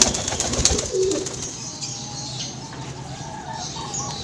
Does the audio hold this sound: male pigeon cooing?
yes